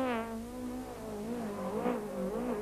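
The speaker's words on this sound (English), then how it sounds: "the cars were hurled round the tight special stage on the outskirts of the town" Rally cars are hurled around a tight special stage on a town's outskirts at the 1994 Total International Rally, one engine revving and surging hard with rising and falling pitch, close and loud.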